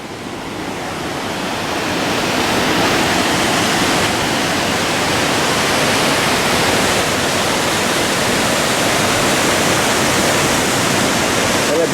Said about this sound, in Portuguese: eu tô aqui na Cachoeira Véu da Noiva